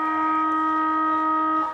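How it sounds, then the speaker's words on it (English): The siren at an Australian football match between Mitcham and Coldstream sounds the end of the quarter as one sustained, steady tone that fades at the end. "And there's your siren."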